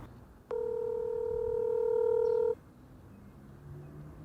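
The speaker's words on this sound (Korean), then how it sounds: "한인 콜택시 회사에 전화를 한번 해보도록 하겠습니다" Steady electronic telephone tone on a call to a Korean taxi company, holding for about two seconds against quiet room noise, then cutting off sharply.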